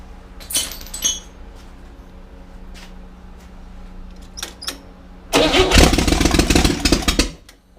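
Refurbished Chevrolet Corvair engine cranks with a few bursts, then catches at about five seconds and runs loud and rough for roughly two seconds before cutting out; nearby, no talk.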